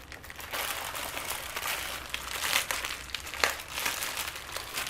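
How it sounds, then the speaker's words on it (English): A plastic bag holding cables and keys for a Clover Mini cash drawer being opened, with close, continuous crinkling and rustling and a few sharper crackles, no speech. "we have a bag with cables and with the keys. I'll open them up for you guys to see."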